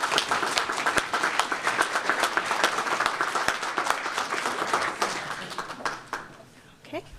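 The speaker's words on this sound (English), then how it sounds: "everyone, give yourselves a round of applause." An audience at an East Boston police station ribbon-cutting ceremony claps and applauds for several seconds, a dense sustained ovation that thins out toward the end.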